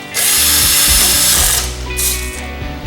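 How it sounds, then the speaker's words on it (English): A power driver whirs loudly up close as screws are driven in while assembling a Gungnir multibit tool, one sustained buzzing run followed by a shorter burst after a brief pause. "So we put all these happy screws in."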